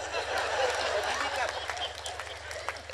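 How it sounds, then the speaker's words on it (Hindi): An audience at a Hindi poetry show claps in scattered bursts, mixed with a voice speaking over the applause and a steady low hum underneath. "मैंने एक बार कहा कि ताली बजाओ"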